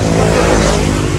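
A motorcycle engine warms up with a loud, close, continuous rumble that holds steady throughout the brief stretch.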